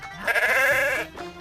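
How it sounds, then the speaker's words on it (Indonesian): A single sheep or goat bleat at a livestock farm in Union Bridge, Maryland, one loud wavering call lasting about a second, close by and without talking. "anak-anak diperbolehkan bermain bersama hewan ternak"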